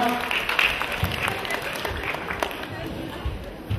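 Hall applause at a Shinkyokushin karate championship prize-giving in Wołomin: a moderate, continuous patter of clapping that eases slightly toward the end, with an announcer talking over it.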